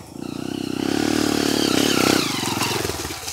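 Trail motorcycle climbing a hill on a dirt trail, its engine revving up loud and close with a rising then falling pitch, plus some clatter and scraping from the bike.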